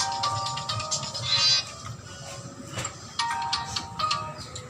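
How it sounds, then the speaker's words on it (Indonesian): A phone rings with an incoming call, its electronic ringtone repeating in short tonal bursts at moderate loudness against a faint background hum. "si Toing, anak Omain telepon nih"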